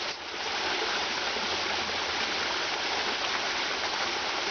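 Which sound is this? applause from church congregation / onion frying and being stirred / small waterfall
small waterfall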